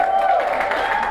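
A comedy club audience in Plano claps steadily for a stand-up comic, a dense, even wash of applause with a faint steady tone running underneath for the whole moment.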